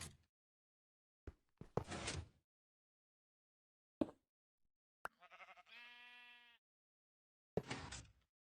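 A sheep in the video game Minecraft bleats once in a clear wavering cry, set among sharp clicks and clunks of blocks and pistons being placed, heard faintly with silent gaps between.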